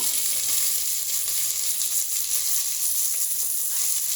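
Carrot, capsicum, potato and beans frying together in a pan for coconut milk rice, giving a steady, loud, close sizzle that hisses evenly throughout with no talk.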